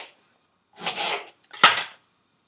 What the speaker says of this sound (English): So you're just going to take your lemons, cut them in half or into quarters